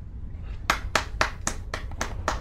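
A short run of seven sharp, evenly spaced hand claps, faint and fairly close, comes from a scene in the video game Sniper Ghost Warrior 2, with no talking.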